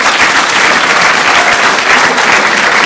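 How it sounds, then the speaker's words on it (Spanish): Loud, dense applause from an audience at an academic event, a continuous wash of many hands clapping together that holds steady for a few seconds with no voices standing out. "Un fuerte aplauso para ellos"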